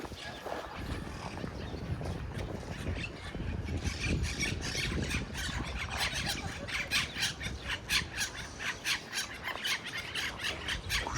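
Birds squawk and squeal in a busy, noisy chorus at Park Güell in Barcelona, growing denser and more rhythmic toward the end, with constant background noise.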